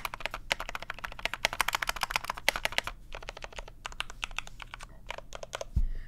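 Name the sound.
typing on GMMK Pro mechanical keyboard, spacebar rattle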